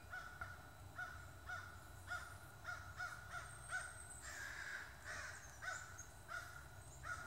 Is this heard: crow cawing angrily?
yes